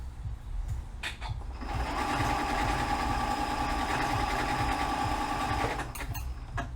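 A sewing machine runs steadily while stitching a scallop edge along fabric, a continuous close mechanical whir that starts after a short pause, holds for several seconds and then stops.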